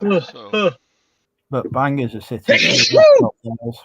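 A single sharp sneeze bursts out midway through a relaxed drinking chat between friends, close and loud, with conversation continuing on either side of it.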